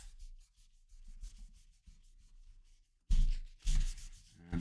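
Cloth wiping excess compound off the frets of a PRS guitar: soft, close, repeated rubbing strokes, then a few louder and harsher scrubbing passes near the end.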